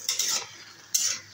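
Bitter jute leaves stirred in a pan as they cook: two short scraping, rustling strokes of a utensil, close and clear with a faint sizzle, and no voices.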